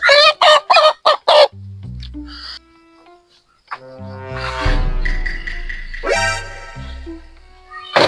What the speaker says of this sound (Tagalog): Aling Basyang, kaganda talaga ng manok mo